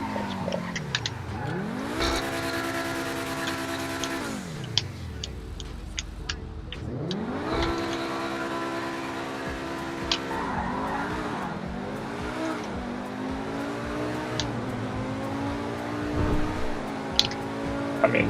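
A Pegassi Tempesta in GTA Online revs hard through repeated gear changes, its engine pitch climbing and dropping in waves, with brief tire skids, heard faintly and steadily throughout.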